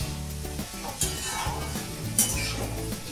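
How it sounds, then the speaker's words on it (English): Chopped potatoes frying in tadka masala with green peas, sizzling steadily while a spoon stirs and scrapes the pan, with a few louder metallic clinks and scrapes near the start and again about two-thirds through. "I'm now going to add the chopped potatoes and cook them with the tadka masala for a couple of minutes"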